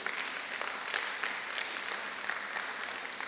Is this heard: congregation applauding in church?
yes